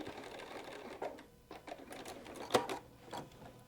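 A sewing machine stitches and backstitches to secure the tail end of a Cuddle pillow seam, a soft, close mechanical chatter in short bursts with brief pauses and a sharper clack partway through.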